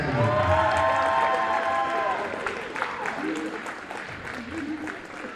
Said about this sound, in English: you can give all 4 of them a round of applause